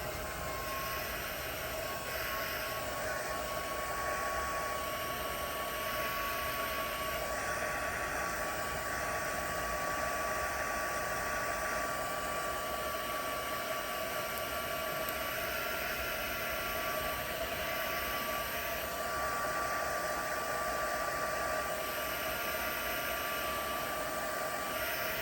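A hair dryer blows a steady, unbroken rush of air over wet opera pink and white paint on a vintage book page. It stays close and constant throughout, with no one talking.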